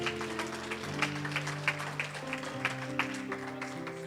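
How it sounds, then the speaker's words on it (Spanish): A church congregation claps along while organ or keyboard chords sustain underneath, the clapping moderately loud and roughly rhythmic over the music. "Den un aplauso a Cristo y póngase de pie"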